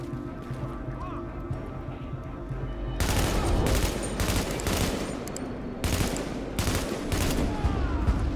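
Bursts of gunfire in Tom Clancy's The Division crackle in clustered volleys over a steady game background, loud and repeated, with a player talking in between.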